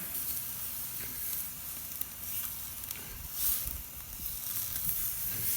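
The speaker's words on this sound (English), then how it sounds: "we need to sear those for a little bit longer" Country style ribs searing in a hot pan give off a steady, close sizzle and hiss. It surges softly now and then and carries on without any voices.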